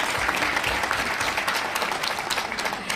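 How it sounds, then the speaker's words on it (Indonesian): An audience claps steadily for a few seconds at a presentation, a dense, even patter of many hands with no pause. "Boleh beri tepuk tangan untuk Atomy."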